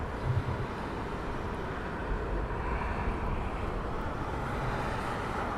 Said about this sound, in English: British Airways 777.